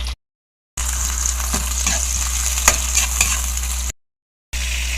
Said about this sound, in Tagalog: Kaya kailangan igisa muna natin ng properly sa mantika.